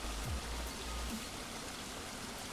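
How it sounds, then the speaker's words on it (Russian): A small stream of water pours over a little drop like a tiny waterfall beside a boggy patch. It makes a steady, faint rushing splash with no voices. "ручей такой уже появился. Не просто ручей, а какой-то Ниагарский водопад."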